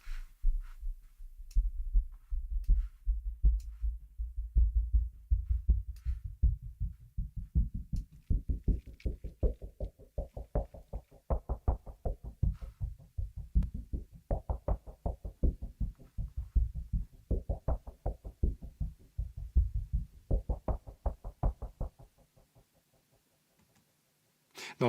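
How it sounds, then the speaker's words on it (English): Deep, heavy synthesized bass pulse from the Dark Horizon instrument, throbbing in a steady rhythmic beat for about 22 seconds, low and booming at first, then swelling into recurring louder waves before cutting off. "Dark Horizon is mainly synthesis-based bass instrument that allows you to create really deep and heavy bass lines, pulses, and rhythms."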